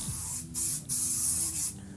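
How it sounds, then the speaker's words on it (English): Field spray is aimed into a clothes dryer in short hissing bursts, three or four close pressurized sprays with brief gaps, loud against a low background hum. "I'm gonna take some field spray. Again, I have no preference, I like nose jammer, but use whatever field spray you like. Get in here and spray down this dryer."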